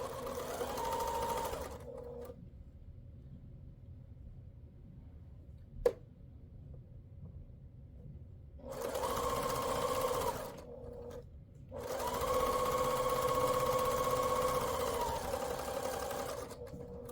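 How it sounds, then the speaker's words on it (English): Bursts of close, rapid sewing machine stitching as quilt block pieces are joined: one short run, a long pause, then two longer runs, each a steady mechanical whir. "I can take these pieces and I'm going to stitch these together."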